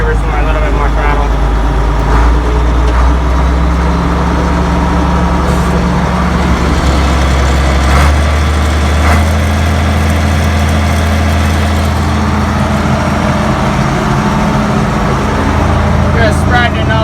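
Loader engine working in a cow yard while spreading manure, a loud heavy diesel drone that rises and falls with throttle changes, close and continuous, with someone talking over it.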